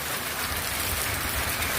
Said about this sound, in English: it's hard to tell if it's hail or just big raindrops